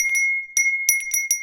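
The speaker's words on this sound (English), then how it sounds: "They don't hear, and my bell doesn't make enough noise." A hand bell rings in several quick bright bursts, clear and fairly close, with no voices in between.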